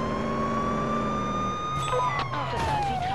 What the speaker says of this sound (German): Wir fahren mit Blaulicht und Sirene.